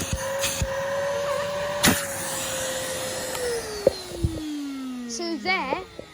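A 2003 Nuvac Henry vacuum cleaner runs with its hose removed for a suction test, a loud steady motor whine that slowly drops in pitch as it winds down, broken by a few sharp clicks and knocks near the end.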